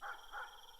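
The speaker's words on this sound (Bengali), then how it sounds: "দূরে কুকুর ঘেউ ঘেউ করছে" A dog barks twice at a moderate distance on a quiet night, two short calls about a third of a second apart, followed by a faint trailing whine.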